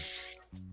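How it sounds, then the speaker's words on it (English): A short, close burst of Wella Professionals hairspray hisses from the can during an everyday hair styling routine, cutting off abruptly and followed by a faint low hum. "And I'm just going to spray everywhere. A lot of hairspray."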